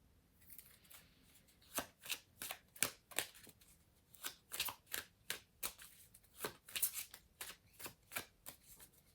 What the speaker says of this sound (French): je vais tirer 2 cartes complémentaires